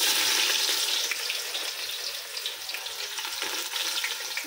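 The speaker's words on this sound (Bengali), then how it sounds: "এখন হলো পেঁয়াজ কুচিগুলো দিয়ে দেবো" Chopped onions frying in hot oil, a loud dense sizzle heard up close that stays constant through the clip with faint stirring, and no talking.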